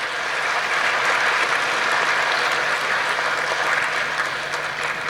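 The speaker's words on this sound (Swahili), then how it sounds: "Naomba tumpigie sana makofi." Loud, sustained applause from an audience at a panel interview event, a thick, steady roar of many hands clapping that carries on evenly for several seconds without talk.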